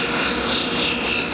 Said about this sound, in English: he's gonna grind it down some more